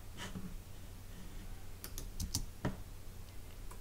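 A few soft keyboard key clicks land in scattered bursts, quiet over a faint background hum.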